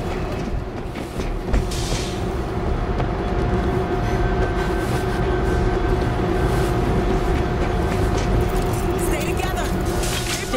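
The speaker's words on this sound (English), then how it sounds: "Get to the train controls and start it up!" A train in a video game starts up and runs, a steady loud rumble with droning engine tones lasting the whole stretch, with faint game sounds and voices mixed underneath.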